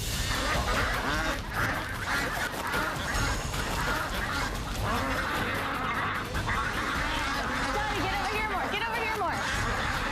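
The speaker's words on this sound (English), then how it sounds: "it's really difficult to hear over the quacking of the ducks" A large flock of ducks quacks loudly and continuously during an outdoor team challenge in Yilan, Taiwan, forming a dense, unbroken clamour of fowl calls with crowd hubbub mixed in.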